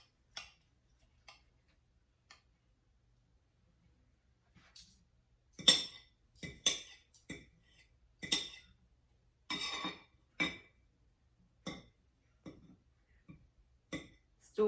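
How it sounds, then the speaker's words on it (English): Cutlery scraping and clinking on a plate while a piece is cut from a fresh, oven-hot meat loaf: quiet at first, then a run of sharp, irregular metallic ticks and scrapes, close and fairly soft. "Let's cut a piece off and give it a try."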